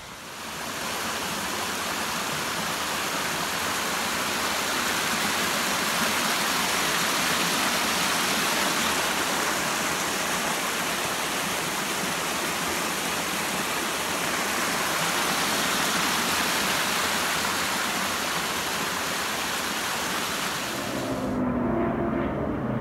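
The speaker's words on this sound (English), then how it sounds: "here's another nice waterfall" A waterfall on the Appalachian Trail gives a steady, full rushing roar of falling water, constant and close, with no voices over it.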